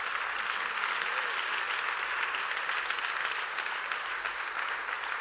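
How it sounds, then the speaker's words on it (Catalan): A packed audience at a theatre season presentation gala applauds loudly, with steady, continuous clapping from many hands that holds at full strength throughout. "Un fort aplaudiment per aquesta temporada"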